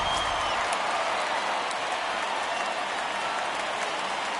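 Home crowd at a baseball game roaring and applauding in a dense, steady wash of cheering that holds at full level throughout, no voices standing out.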